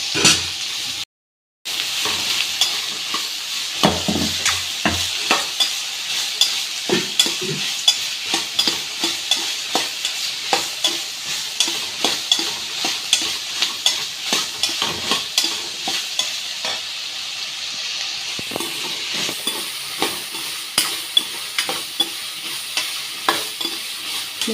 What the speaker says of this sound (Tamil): பொடிசாக நறுக்கி வச்சுருக்கேன், அதையும் போட்டுக்கோங்க. போட்டு நல்லா வதக்கணும்.